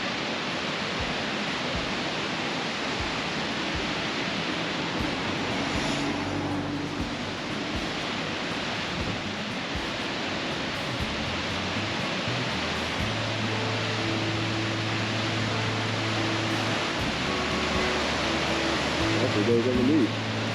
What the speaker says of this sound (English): This is a waterfall right off the road.